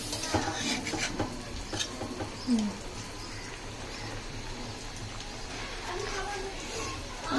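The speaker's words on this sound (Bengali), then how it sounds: "লোহার কড়াইয়ের ভেতরে কিন্তু মাছ ভাজতে অনেক ভালো লাগে" Frying sizzle and scraping of a utensil in an iron wok as a large fish fries, with people talking over the cooking noise.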